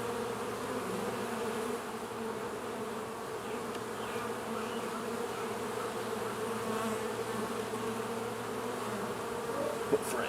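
Honey bees buzzing around an open hive frame: a dense, continuous drone of many insects, steady and fairly close throughout, with no talking.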